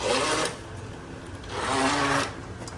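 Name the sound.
blender coarsely grinding ingredients on chop setting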